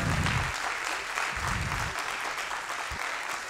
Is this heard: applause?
yes